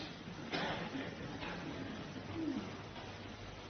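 Pigeon-like coos and bird calls drift through a snooker arena during the 2018 World Championship final, soft and intermittent over a steady hush of crowd ambience.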